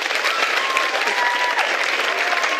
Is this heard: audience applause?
yes